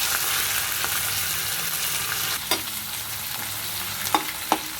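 Steady sizzling of onions frying in hot oil, with a few sharp scrapes of a spoon stirring the pan toward the end.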